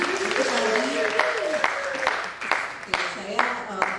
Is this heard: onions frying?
no